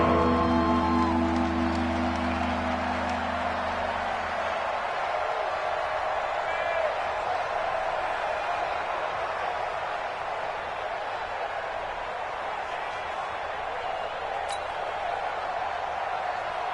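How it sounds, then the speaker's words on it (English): Stadium crowd in a video game American football match, a steady broad roar of cheering and noise filling the whole stretch, with a low tone fading out early on. "the crowd getting into it as we come up on a big 3rd down"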